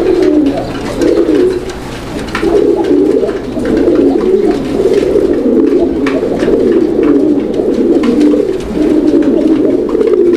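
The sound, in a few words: male pigeon cooing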